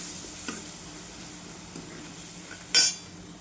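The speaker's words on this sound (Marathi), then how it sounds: "आपला मसाला छान भाजला गेला आहे तेलामध्ये." Red chili spice mix with salt frying in oil for a drumstick and raw mango dal, a faint steady sizzle with a few soft stirring taps and one sharp metallic clink near the end.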